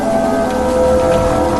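Steady, dense rain pours throughout, a continuous hiss of drops in the Evil Nun video game, loud and close with no gaps.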